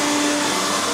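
A vacuum cleaner hoovering the interior of a used Range Rover during car prep, a steady close whining motor drone with a constant tonal hum, running alone without talk.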